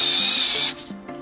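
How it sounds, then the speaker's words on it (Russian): A cheap lithium-ion cordless screwdriver drives a screw in a loud, steady whine for about half a second, then cuts out, followed by a few brief quieter bursts. "А вот шуруповерт Лонгун."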